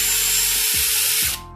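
A Keyang 18V cordless drill gives a short, close whirring burst with a mechanical ratcheting clatter, then winds down and stops in just over a second.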